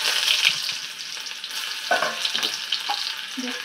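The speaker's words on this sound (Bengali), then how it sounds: "পেঁয়াজ কুচি দেবো।" Chopped onion fries in oil with whole cumin, dried chilli and bay leaf, giving a steady close sizzle broken by several short scraping stirs. No voice is heard.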